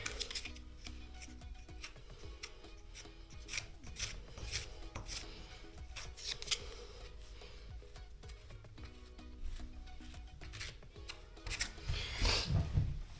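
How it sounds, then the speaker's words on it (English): Filler being scraped off a bath hole repair, a series of short rasping scrapes and taps at close range with irregular rhythm, growing somewhat louder toward the end. "Let me scrape some of that off and bring it back."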